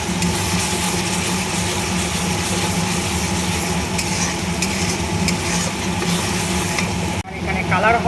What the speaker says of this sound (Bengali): আর এখানে কালার হওয়ার জন্য দিয়ে দিচ্ছি কাশ্মীরি লঙ্কার গুঁড়ো। দিয়ে ভালো করে কষিয়ে নিচ্ছি।